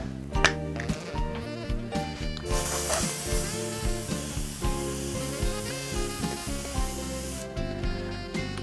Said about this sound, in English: we'll use the Preval sprayer